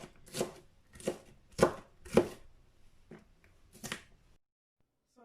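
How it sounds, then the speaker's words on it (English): A knife chops onions on a cutting board: five crisp, evenly spaced strikes, close and clear, followed by silence. "chop your onions in very tiny pieces"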